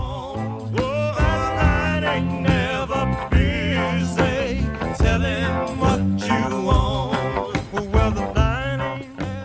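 Dense recorded rock music with a bright electric guitar bending and singing over drums and bass, loud and continuous.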